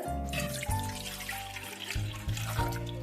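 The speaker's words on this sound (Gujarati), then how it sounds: "હું 500 ml જેટલું પાણી એડ કરું છું" Roughly 500 ml of water pours from a container into a cooking pot for a jaggery syrup, a close, continuous gurgling splash with slight shifts in flow, and no voices.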